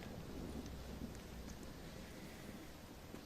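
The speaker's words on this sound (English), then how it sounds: "it's just the storm, John." Steady rain with a low rumble of thunder during a storm in the Western video game Red Dead, a constant dense wash of sound with no voices.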